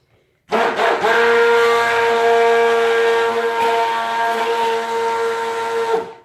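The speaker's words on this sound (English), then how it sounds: "So see how I'm keeping the blender underneath the surface all the time?" A stick blender mixes cold process soap batter in one continuous loud whirring hum lasting about six seconds, starting abruptly and holding steady before cutting off, with no talking.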